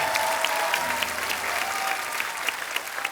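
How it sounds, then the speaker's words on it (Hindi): Loud, sustained applause from a studio audience on a Hindi comedy talk show, dense clapping filling the whole moment without speech. "एक बार जोरदार तालियां हो जाए।"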